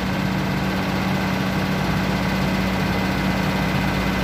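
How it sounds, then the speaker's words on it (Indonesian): Mercedes OM366A diesel truck engine, a Mercy 917/1417/1521 turbo intercooler truck, idling steadily with a constant low rumble and hum, close and continuous throughout. "Engine-nya masih running."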